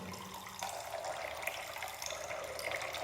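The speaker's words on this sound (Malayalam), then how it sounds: "എന്നിട്ട് ഇതിൽ നമ്മൾ വെള്ളം ഒഴിച്ച് കൊടുക്കുക" A little water poured into a plant container for a spider plant grown without soil, a quiet, steady trickle lasting a few seconds with no talk.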